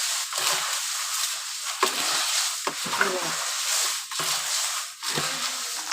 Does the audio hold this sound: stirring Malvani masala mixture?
yes